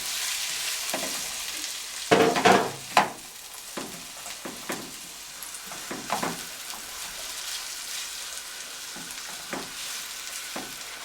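Finely diced onions hit hot ghee and butter with a sharp burst of sizzling, then settle into a quieter steady fry with intermittent stirring clicks.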